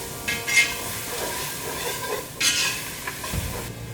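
Onions dropped into a hot pan for a king oyster mushroom étouffée, sizzling and stirred, with a few bursts of sizzle and scraping over a steady background hiss.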